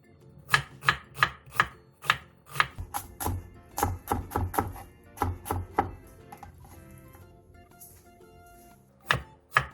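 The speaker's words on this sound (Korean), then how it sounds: "양파 2분의 1개를 다져주세요" Half an onion chopped with a knife on a cutting board, a series of sharp, close thuds in quick irregular bursts with short pauses, ending in two final chops.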